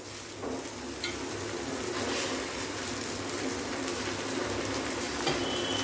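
An egg frying in ghee on a pan for chicken jalar murtaba, a steady close sizzle and crackle that carries on evenly throughout.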